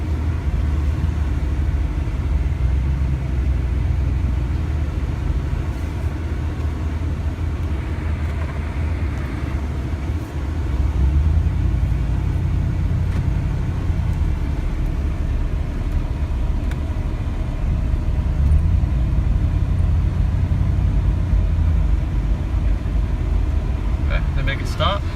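A Ford F150 engine idles in reverse gear with a low, steady rumble that swells slightly at times, heard close under someone talking throughout.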